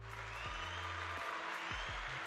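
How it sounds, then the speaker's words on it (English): Applause sound effect during a live question-and-answer stream: a steady wash of crowd clapping runs the whole time at even loudness, with low tonal hum and murmur beneath it. "let's see if I've got the applause pulled up here"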